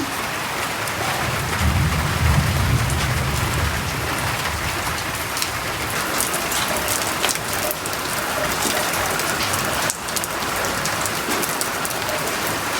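Heavy rainfall pours steadily and loudly close by as a dense hiss of drops, with a low rumble early on and a sharp crack around the tenth second.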